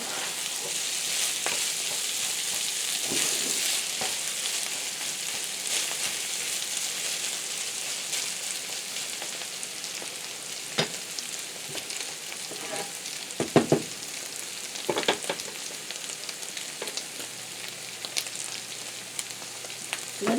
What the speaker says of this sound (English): It's getting a pretty nice scald on that corned beef.